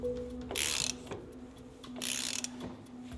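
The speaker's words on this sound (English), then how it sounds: "when you're actually starting the procedure of precise tightening of the nut to get optimal preload on those bearings" A ratchet wrench tightens the pinion nut on a BMW M differential during bearing preload, two quick bursts of rapid clicking about a second and a half apart, close and fairly faint over a low background hum.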